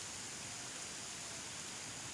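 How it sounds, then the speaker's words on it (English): Steady broadband rain hiss, an even wash of falling water with no distinct drops, constant and fairly faint throughout with no voices. "Here comes the rain."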